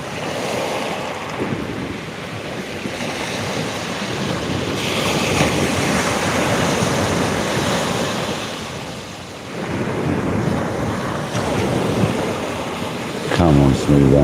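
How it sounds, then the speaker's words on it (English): Sea waves surging and washing steadily, heard from a kayak on open water while sea fishing, with continuous wind buffeting the microphone and a loud, close, rolling wash throughout. "I bet this sound of the sea sending loads of people to sleep tonight."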